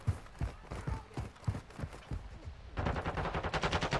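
Rapid bursts of machine gun fire from Modern Warfare 2 Invasion mode, played on Xbox Series X. Loud, close shots come in a steady rhythm that quickens into a denser rattling volley near the end.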